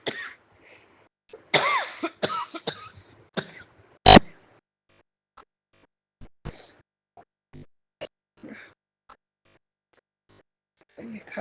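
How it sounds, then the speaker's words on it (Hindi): Several dry coughs and throat clearings from a woman, spread in short bursts across a quiet indoor recording, some sharp and loud, others faint, with brief talk between them. "ये खांसी मुझे बने रहती है"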